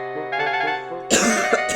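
A short cough from a flour-coated toy train character, heard as a couple of rough, breathy bursts following a sustained held note, close and fairly loud.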